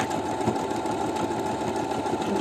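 A new sewing machine runs continuously, stitching what appears to be a smocking pattern. It makes a rapid, even mechanical whir and knock, close up with no talk.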